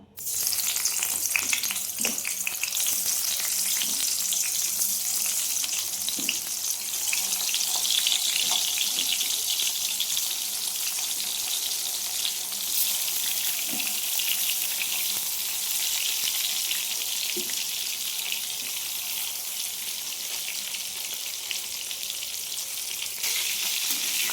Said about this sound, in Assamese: এতিয়া মই বেঙেনাখিনি ভাজি যাওঁ।